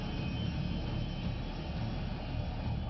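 An Indian Air Force Sukhoi fighter jet practising landings at Jolly Grant Airport roars steadily, a loud continuous broadband engine rush with no talk over it.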